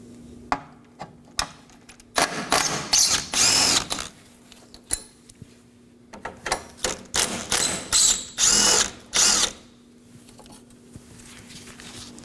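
A ratchet is undoing the 10mm core brace bolts on a 2018-2024 Chevrolet Equinox, with the bumper already off. It comes as bursts of close, rapid clicking, with short taps and pauses in between and no talk.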